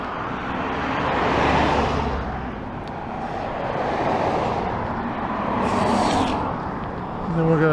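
Traffic on a 35 mph suburban road with a Nissan among the cars, steady broadband roadway rumble swelling as vehicles pass by close, no speech over it.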